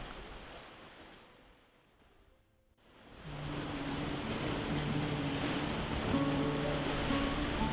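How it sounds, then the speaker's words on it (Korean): Waves wash against the shore of Deokjeokdo island, Incheon, Korea, at nightfall, in a broad hiss that fades briefly, then swells back loud and steady, with a faint low hum beneath. "사람 소리로 시끌벅적하던 섬에는 파도 소리만이 맴돌고 이내 어둠 속에 잠깁니다"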